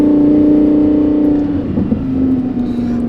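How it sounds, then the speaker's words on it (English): An Audi R8 Plus supercar revving while driving along, a loud steady engine drone heard from inside the cabin, with the pitch dipping and then rising again. "Here we are driving the R8 Plus ride along"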